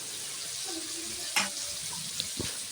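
Chicken with chicken masala, turmeric, chili powder and chopped tomato with its juice sizzles softly in a pan while being stirred, with a couple of sharp utensil scrapes and clinks.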